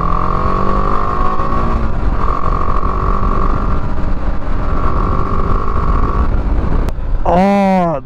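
A motorcycle on a road trip hums along a mountain road at steady speed, engine drone rising and falling through gear changes, close and continuous, with a rider talking over it before a sharp revving burst near the end.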